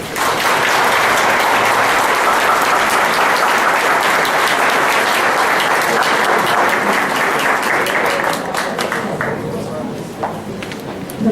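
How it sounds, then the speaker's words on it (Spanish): A large lecture audience applauds steadily after an inaugural conference talk on suicide, dense sustained clapping that holds for about eight seconds, then thins and fades out. "Le damos un fuerte aplauso"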